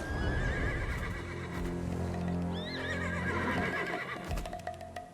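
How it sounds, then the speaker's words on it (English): Horses in the video game Black Desert Online whinny and snort with hoof clops over a steady game ambience, sounding moderately close and with no talking. "The horses won't budge thanks to that scary lot."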